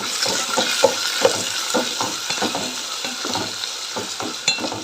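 Tomatoes stir-fried in a pan for a quick amaranth-leaf rice dish, with steady sizzling and a spoon scraping and stirring in quick repeated strokes throughout, fairly close and with no talking.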